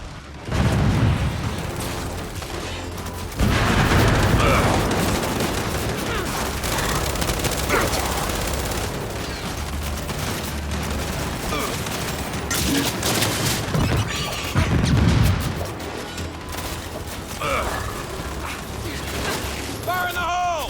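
Turret fire and explosions in the video game Gears 5, dense rattling bursts of gunfire broken by heavy booming blasts, loud and continuous throughout, with shouting voices mixed in.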